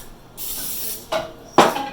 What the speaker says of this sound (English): Then you spray oil on the top.